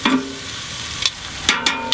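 Chicken cordon bleu sizzles on a Char-Griller Akorn ceramic grill, a steady close frying hiss broken by a few short scraping clicks and taps, with no talking.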